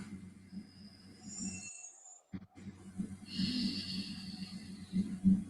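Breath exhaled through the nose during a guided breathing exercise, soft airy rushes heard close up, with a brief pause in the middle before more nasal breathing continues.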